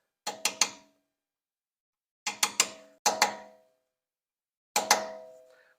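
Sharp metallic taps of a punch seating a brake drum cover on a 1999 Toyota Tacoma, struck in quick bursts of two or three close, ringing hits separated by pauses, about eleven strikes in all.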